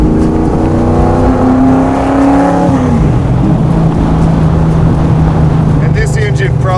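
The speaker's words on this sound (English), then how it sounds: "this engine probably comes alive higher up in the RPMs" A 1967 Ford FIA Fastback Mustang street car engine, close and loud, with a rising rev that drops back to a rumbling idle partway through.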